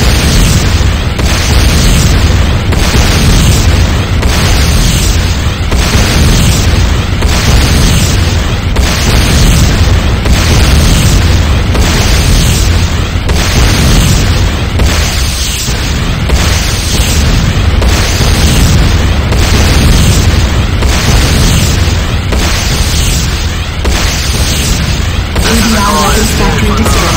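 Repeated booming explosions as buildings are destroyed in the video game Renegade C&C, a loud, continuous barrage of blasts and bursts running throughout with little pause.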